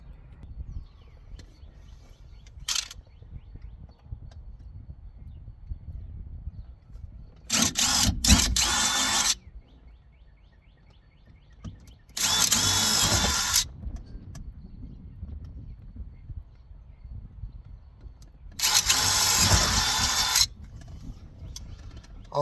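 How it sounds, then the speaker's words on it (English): Power drill boring holes through Jeep metal for a Molle overhead storage panel, with three loud whining bursts of two to four seconds each, separated by quiet handling noises and small clicks, close up. "Let's get those holes drilled in there."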